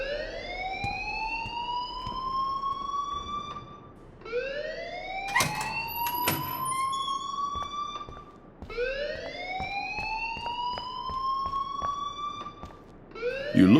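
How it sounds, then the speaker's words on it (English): A repeating alarm from the video game Life is Strange rings in three long, rising, whooping sweeps, each starting low and gliding upward. It is loud and alone, with a few sharp clanks and bumps between the second and third sweeps. "please turn off that alarm since that's your job"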